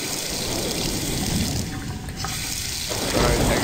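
A sink faucet in the video game The House 2 runs with a continuous, hissing stream of water pouring into a basin, steady and close, with a slight change in tone partway through and no talk.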